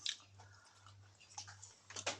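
Someone eating, with faint, close, moist chewing and biting sounds in uneven bursts over a low steady hum, and no talk.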